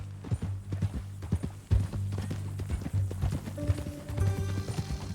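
Horse hooves clip-clop steadily in Red Dead Redemption 2, a moderately close, even walking rhythm with occasional louder strikes, while faint music or tones enter near the end.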